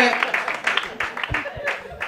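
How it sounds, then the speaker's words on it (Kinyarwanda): Audience applause welcomes comedian Papa Gigi onto the stage at a live comedy show, a steady patter of clapping hands filling the room with a few louder bursts throughout. "ladies and gentlemen put your hands together for papa gigi amashyi menshi"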